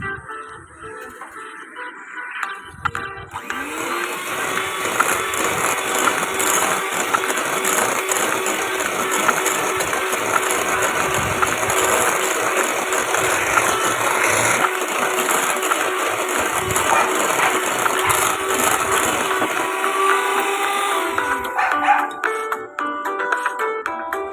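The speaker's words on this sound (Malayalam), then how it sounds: "ഒരു ബീറ്റർ കൊണ്ട് നല്ലപോലെ ബീറ്റ് ചെയ്ത് എടുക്കാം." Electric beater whipping a mousse mixture in a bowl, a loud, continuous high whirring motor sound that runs steadily for about twenty seconds, starting and stopping abruptly, with no talk.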